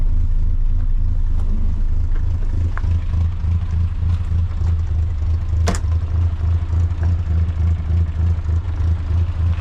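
A Morris Minor car with a newly replaced head gasket drives along, its engine giving a steady low rumble with light clatter, heard from inside and without any talk.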